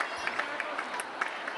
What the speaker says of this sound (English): the crowd getting a show of emotion here in a crucial moment